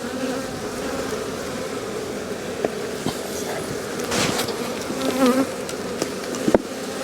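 Honey bees buzz steadily around an opened hive in an Australian bee yard on a warm day, a continuous close drone with a few brief knocks and clicks from handling the boxes.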